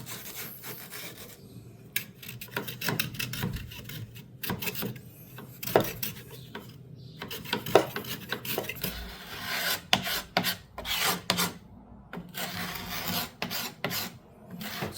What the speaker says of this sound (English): we'll brush this off, this one here, just like these other parts